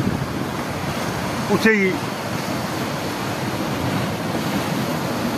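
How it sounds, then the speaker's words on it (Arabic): Sea surf washes continuously below a seaside shrine, a loud, steady roar of breaking waves mixed with wind buffeting the microphone, and a brief voice cuts in once. "تطل النيشان على البحر."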